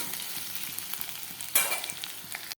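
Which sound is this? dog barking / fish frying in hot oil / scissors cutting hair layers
fish frying in hot oil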